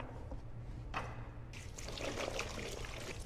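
Cut yuca pieces are washed in water, giving a close, continuous splashing and pouring sound that swells partway through.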